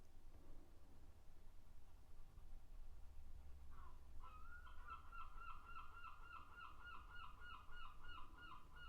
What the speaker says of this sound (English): There goes the seagulls.